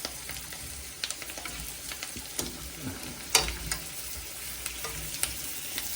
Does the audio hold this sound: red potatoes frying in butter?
yes